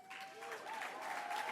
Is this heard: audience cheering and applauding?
yes